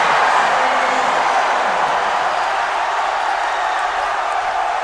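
A basketball crowd at a local cup game in Sorsogon roars loudly after a slam dunk, a dense sustained wave of cheering that gradually eases off.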